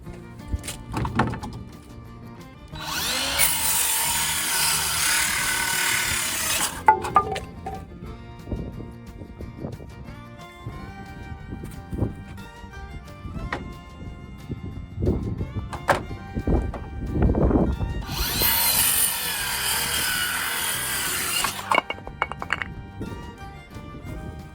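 A Bauer cordless driver whirs loudly in two sustained bursts of several seconds each, with knocks, thuds and handling clatter between them, close up and without talk.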